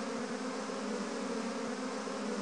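A swarm of bees buzzes in the Little Critter iPad game, a steady dense drone with no breaks, close and alone.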